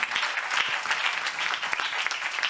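A church congregation at a Sunday service applauds, with dense sustained clapping from many hands filling the whole moment.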